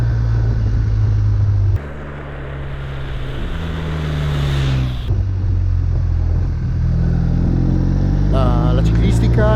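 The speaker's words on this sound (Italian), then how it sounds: "sentite che bel rumore tra l'altro che ha il nuovo boxer BMW" BMW R1250RT boxer-twin motorcycle engine while riding: a loud, steady low rumble whose pitch climbs and drops through gear changes, with wind noise and a voice talking over it.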